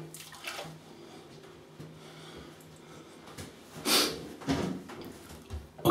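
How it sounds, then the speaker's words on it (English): Water runs from a tap while a shaving brush is rinsed at a sink, a steady low splashing stream with a few louder bursts of water and splatter near the end. "I'll just rinse off and I'll be back."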